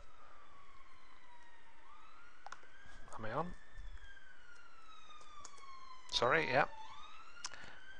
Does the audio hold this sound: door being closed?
no